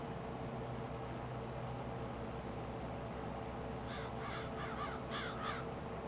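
Crows cawing in Farming Simulator 22 over a farm field: a cluster of repeated harsh caws in the latter half, heard over a steady, hissy ambient background.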